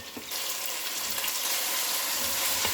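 Mixed vegetables fry in a pan, making a continuous close sizzling hiss that starts abruptly and holds steady, with no voices.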